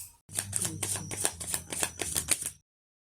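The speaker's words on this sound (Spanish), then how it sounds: "vamos a barajar con el tarot de la frecuencia las cartas" Tarot cards being shuffled by hand, a run of quick papery riffles and soft slaps in a steady rhythm, close and fairly quiet, lasting a couple of seconds before stopping.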